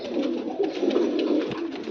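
A pet pigeon coos in a low, throaty rolling murmur that carries on through the short stretch, close by and fairly soft, with no other sounds around it.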